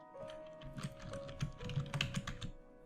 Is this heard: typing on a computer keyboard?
yes